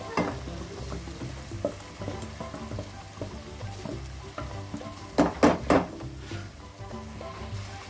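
Dill leaves being stirred into masala frying in a pan, with a steady close sizzle, scraping strokes of the spoon, and a few sharper clatters against the pan near the end.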